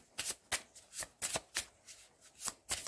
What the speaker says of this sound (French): ce 6 de carreau, il faut que je rajoute une carte dessus